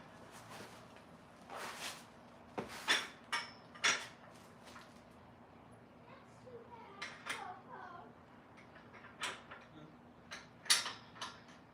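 Bolts being tightened while a Bongkim pull-up bar is assembled: irregular metallic clicks, taps and light rattles, some close and sharp, separated by short quieter gaps.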